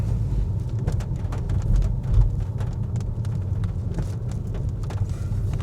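Heavy rain falling steadily in an open park ground, a dense continuous hiss with a low rumbling undertone, with no voices.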